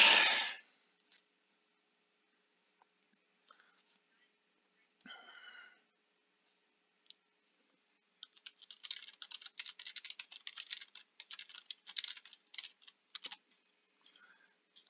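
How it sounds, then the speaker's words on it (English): Rapid, irregular clicking of fingers typing on a computer keyboard, close and fairly quiet, running in a steady burst through the latter half after a sharp noise at the start and a few isolated taps. "So I'm typing a quick announcement and then I'll get into the class."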